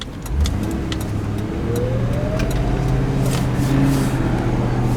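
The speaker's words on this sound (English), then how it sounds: "First acceleration test. Whoa. I'll tell you, these Crown Vics do have a little bit of power." Ford Crown Victoria Police Interceptor pulling hard under acceleration, engine note climbing steadily in pitch and loudness over several seconds, heard close up from inside the car with some wind and road noise.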